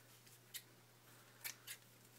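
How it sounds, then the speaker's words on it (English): Scissors snipping through satin ruffle trim cut to length: three short, faint, close snips, one alone and then a quick pair, over a low steady hum. "So I'm just going to cut that there"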